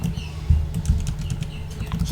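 Keys clatter on a computer keyboard while entering text into an Excel invoice template, a steady run of light close taps with a few heavier strokes, no voices.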